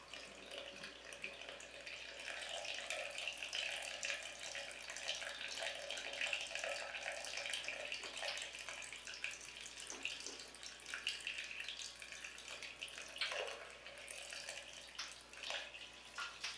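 Water drains from a water heater tank through a partly opened drain valve, a faint, steady splashing trickle with scattered drips and gurgles throughout, heard alone with no voices.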